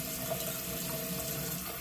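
Steady running water from a faucet pours continuously, a broad even hiss with no break, fairly close and moderately loud, with no voices.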